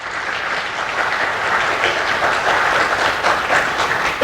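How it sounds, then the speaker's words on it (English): Sustained applause from a large conference crowd at PyCon Pakistan 2019, steady and fairly loud throughout with no voices over it. "these guys definitely deserve a huge round of applause"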